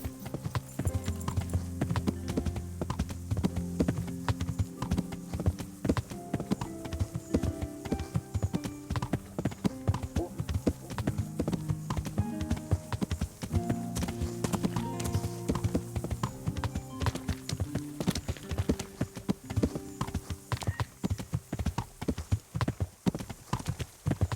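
Horse hooves clip-clop steadily and continuously in Kingdom Come: Deliverance, a close, even rhythm of hoofbeats over a sustained tonal background with no talk.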